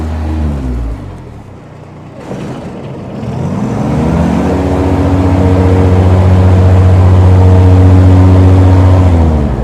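Engine of a 2014 Kubota ZD331P zero-turn mower with hydrostatic drive, a steady low hum that dips briefly then settles into a loud, even drone close by, with no talking.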